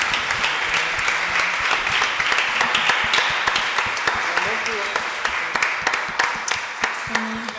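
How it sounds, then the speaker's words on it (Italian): A church congregation claps during a Saturday worship service, a continuous full-room burst of many hands that carries on for several seconds with some voices mixed underneath, tapering slightly near the end. "Possiamo fare un applauso al Signore?"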